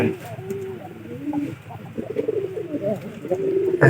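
Pigeons in a loft give low, repeated throaty coos close by, rising and falling over a steady murmur, with a voice heard at times.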